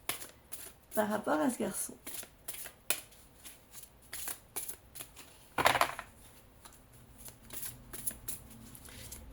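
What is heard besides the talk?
oracle card deck being shuffled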